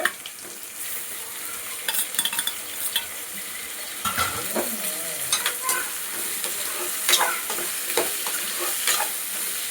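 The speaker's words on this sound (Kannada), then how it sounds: "ಇದು ಫ್ರೈ ಆಗಿದೆ" Vegetables fry in a pan for a drumstick curry, a constant sizzle broken by repeated scraping stirs and light clinks of a spoon against the pan, close and without talk.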